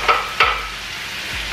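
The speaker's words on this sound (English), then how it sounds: "I wanna take my onions and I'm gonna use my knife, guys. Go ahead and scrape these onions right up in here." Onions scraped with a knife in a hot pan, two sharp close scrapes at the start over a continuous sizzle that keeps going alone afterward.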